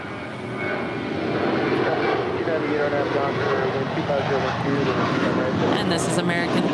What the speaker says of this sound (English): And this is American 1331 off to Dallas-Fort Worth, an A321